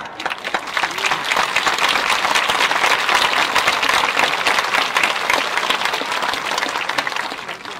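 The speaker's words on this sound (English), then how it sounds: "Another round of applause." Sustained, loud audience applause fills a graduation ceremony hall after a concert choir performance, dense clapping holding steady for about eight seconds before easing slightly at the end.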